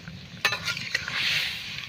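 Bottle gourd and lentils sizzle softly in a pan in a village kitchen, with a few sharp scrapes of a spoon stirring them over a steady low frying hiss.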